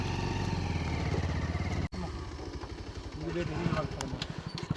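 A motorcycle engine idles and runs with a steady low rumble throughout, a brief dropout midway, while people talk over it.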